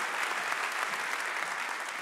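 A church congregation claps in praise during a sermon service, a steady dense wash of many hands sustained evenly throughout with no talk over it.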